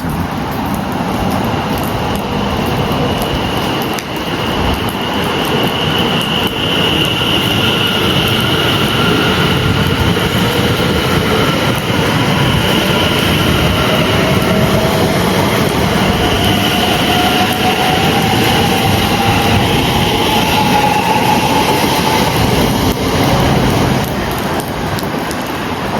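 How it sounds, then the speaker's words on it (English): A train pulls away from Beaulieu Park station in England, heading towards Clacton; a steady loud rail rumble with a rising whine of traction motors builds over the whole stretch, without talk. "Anyway, train about to go and going to Clapton."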